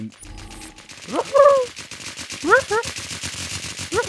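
Rapid automatic gunfire from the online game WarZ rattles in dense bursts of shots, loud and close, while voices shout over it.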